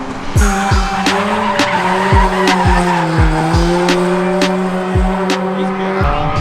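A car drifting at a Western Speedway track day, tires squealing in long continuous screeches while the engine revs loud and close, with repeated sharp bursts from gear shifts or limiter hits.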